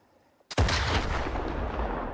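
An RPG-7U rocket launcher fires in the video game STALKER 2, a sudden loud blast that rolls into a long booming explosion tail fading over two seconds, alone with no talk.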